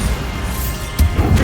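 A Bombarda blasting spell from Hogwarts Legacy goes off as a short, punchy crash-like explosion burst standing out against steady game background noise.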